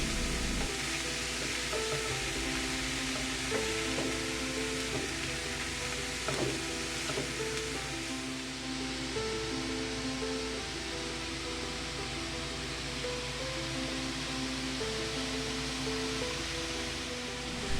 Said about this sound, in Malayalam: നല്ലതുപോലെ ഇളക്കി, അടിയിൽ നിന്നൊക്കെ ഇളക്കി അത് നല്ലതുപോലെ മിക്സ് ചെയ്യുക